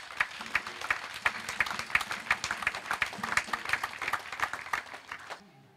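A church congregation at a Sunday worship service breaks into steady, dense clapping that carries on for several seconds and then stops abruptly, with no voices over it.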